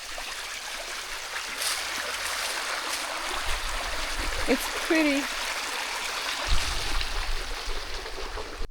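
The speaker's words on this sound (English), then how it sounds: "what a beautiful brook here, or stream" A brook flowing past a village house, a steady close rush and trickle of water with a few bumps and handling noises, while a person speaks briefly over it.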